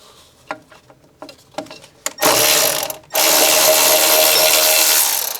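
A ratchet wrench turns a bolt on a 1967 Dodge Charger, first in a few short clicking pulls, then in two loud sustained bursts of rapid ratcheting up close, with no voices.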